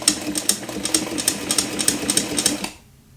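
A model 237 sewing machine with a standard presser foot stitches through leather in a quick, even mechanical chatter of needle strokes for a few seconds, then stops.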